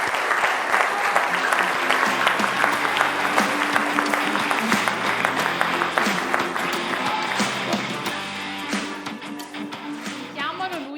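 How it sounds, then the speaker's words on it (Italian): An audience claps steadily for an Italian weightlifting champion, dense applause continuing for several seconds with music underneath and voices mixed in, easing slightly near the end. "facciamo un applauso al campione italiano."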